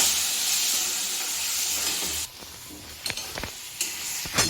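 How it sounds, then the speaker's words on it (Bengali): A potol and potato vegetable curry sautéed in a pan after a splash of water, first hissing and steaming steadily, then quieter with a few sharp spoon scrapes and knocks against the pan. "এবার একটু জল দিয়ে আর একটু কষাবো।"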